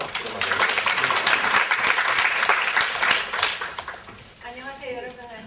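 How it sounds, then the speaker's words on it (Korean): An audience applauds warmly at a Korean women inventors' association forum, a dense, steady burst of clapping that fills the room for several seconds and then trails off as a voice begins to speak. "박수로 맞아주세요."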